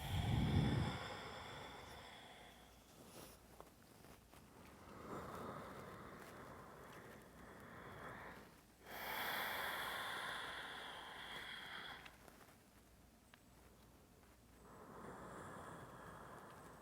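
Slow, deep breaths held in an Ashtanga yoga pose, faint airy inhales and exhales rising and falling in long waves against quiet room noise, with a loud sigh at the start.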